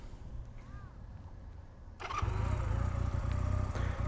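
A Honda Rebel 250 (CMX250) motorcycle engine fires up about halfway through after a quieter outdoor stretch, then runs at a loud, close, steady idle to the end.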